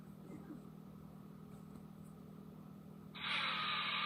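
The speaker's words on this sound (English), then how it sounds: "That's the blower." A plug-in electric blower switches on abruptly near the end, its steady loud whooshing hiss rising out of a low background hum and holding constant, with no voices.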